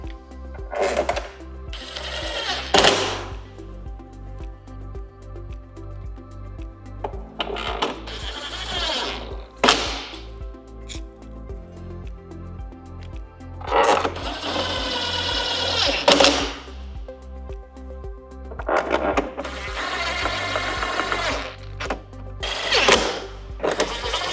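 Screws driven back into the fairing of a 2024-2026 Harley-Davidson Street Glide Ultra, heard as several bursts of whirring and ratcheting from a driver separated by pauses, close and distinct with no talk.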